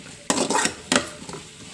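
Two quick scraping stirs of a spoon in a pan of roasting spices, close and fairly loud, with a faint background hiss between them.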